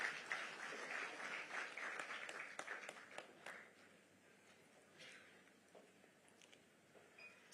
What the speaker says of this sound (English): Let's give him a round of applause as he is coming forward.